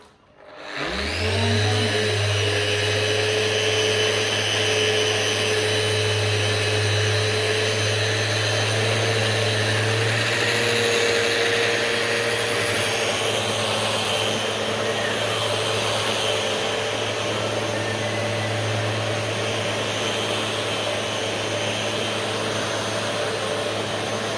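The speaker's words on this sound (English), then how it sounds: "And then just keep on going with your sanding." A power sander spins up and runs on a wooden table with a loud, steady motor drone and gritty rasp for the whole stretch, with no talk.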